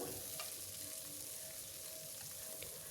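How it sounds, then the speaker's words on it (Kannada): Shelled avarekalu field beans fry in oil for about a minute, giving a continuous, even hiss of sizzling that stays fairly quiet and steady throughout. "ಅವರೆಕಾಳನ್ನ ಈ ಥರ ಎಣ್ಣೆಯಲ್ಲಿ ಒಂದು ನಿಮಿಷ ತನಕ ಫ್ರೈ ಮಾಡ್ಕೊಬೇಕು"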